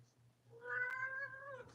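A cat gives one drawn-out meow, close and clear, rising and holding for about a second before trailing off. No talking.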